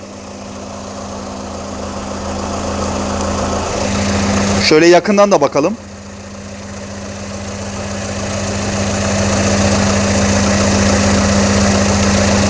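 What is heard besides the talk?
rebuilt car engine idling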